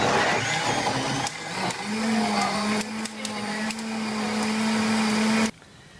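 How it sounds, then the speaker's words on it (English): A blender whirs steadily at high speed for several seconds, then cuts off abruptly, leaving quiet room tone. "gotta put the blender on high"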